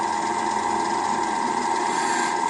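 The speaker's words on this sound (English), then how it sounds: "I just put the nose of the gouge right on the center" A wood lathe gouge cutting into a spinning goblet blank gives a steady, sustained whirring hiss with a strong tonal whine, even and unbroken for a couple of seconds, close and moderately loud.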